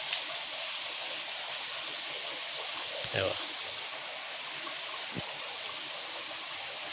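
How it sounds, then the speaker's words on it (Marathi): Water flowing over rocks in a hillside stream in the Konkan countryside, a steady close rushing wash throughout with a couple of brief thuds, no talking. "सगळ्या खडकांना पाणी येता"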